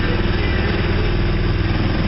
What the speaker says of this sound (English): we just turn the engine back on and do some more motor sailing